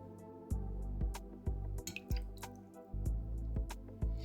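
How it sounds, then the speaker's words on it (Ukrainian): Spoonfuls of broth poured into a dish of aspic tongue decorated with carrot flowers and parsley: repeated soft liquid drips and splashes at a roughly regular pace, close and clear. "Наливаю сюди декілька ложечок бульйону."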